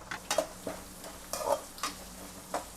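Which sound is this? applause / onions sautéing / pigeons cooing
onions sautéing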